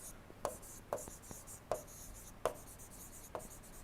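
Writing during an engineering lecture on engine performance gives several crisp taps and scratches at an uneven pace, close and clear over a quiet room with no talk.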